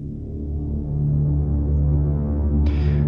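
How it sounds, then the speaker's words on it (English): Atmospheric ambient pad played on an Elektron Digitakt, a steady low droning hum with a throbbing texture that swells slightly, plus a brighter hiss layer entering near the end. "This is the Atmo sound, which is the fundament for the whole track"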